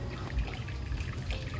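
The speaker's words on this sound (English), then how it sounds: "I don't want the pulp to go through, I just want to drain off the water." Water from chopped tomatoes trickles and drains through a strainer, a soft continuous dribbling wash that stays steady and fairly close.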